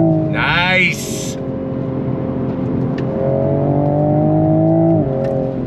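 A Toyota Supra Mk5 Final Edition revs hard through a ZF 8-speed automatic, with a quick rising burst and shift early on, then a steady engine drone heard from inside.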